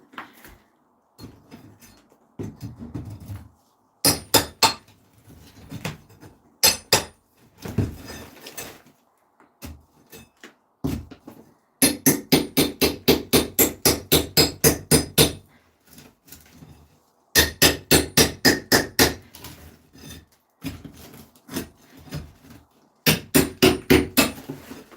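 A chisel is struck with a hammer in a cold house, with sharp metallic blows coming in quick bursts of rapid repeated strikes separated by short pauses, close and loud.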